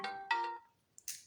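Short electronic telephone ringtone with two bright tonal chirps, then a brief pause and a higher beep, loud and close, with no voices.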